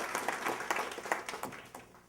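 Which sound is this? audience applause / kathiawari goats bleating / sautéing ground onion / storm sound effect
audience applause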